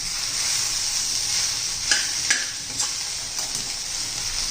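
Chopped onions for a spicy, traditional wedding-style onion chutney sizzle in a pan, a constant bright frying hiss broken by a few soft scrapes of stirring.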